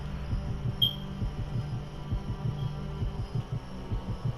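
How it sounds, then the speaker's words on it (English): Heartbeat sound effect from the video game The Silver Case, a steady, deep, thudding pulse over a low hum, repeating evenly and close throughout. "Got the heartbeat pumping."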